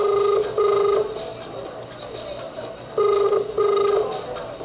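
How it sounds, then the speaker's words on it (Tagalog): A telephone rings twice in repeated double trills, clear and fairly loud over a low background murmur on a live TV variety show set. "Telepono niyo."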